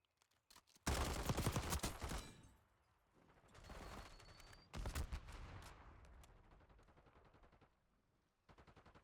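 CR-56 AMAX rifle bursts in a shooter video game, loud close volleys in two main bursts with quieter stretches and sparse single shots between, ending in another short burst.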